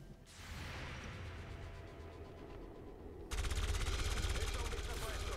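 Sustained rapid automatic gunfire in the video game XCOM 2 rattles throughout, then jumps abruptly louder and sharper partway through, continuing as a fierce close-range barrage.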